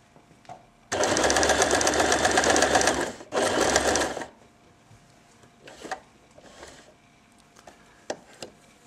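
A bottom-loading sewing machine stitches fabric in two loud, close bursts, a long run and then a shorter one. Faint clicks and handling noises follow in the quiet afterwards.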